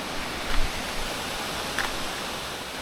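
Steady broadband rush of water falling at Daranak Falls in Tanay, a continuous even roar heard from nearby with no voices.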